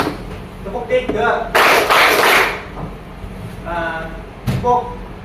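A class of students claps hands in a counting rhythm game, with a loud burst of clapping midway and a single sharp clap later, while a teacher talks between the claps.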